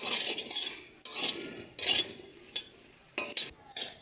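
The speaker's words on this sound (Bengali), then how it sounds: "দেখো এগুলো কিন্তু সুন্দরভাবে ভাজা হচ্ছে" Small brinjals fry in a pan while a utensil stirs them, giving repeated bursts of close scraping and clattering over a faint sizzle, with no talking.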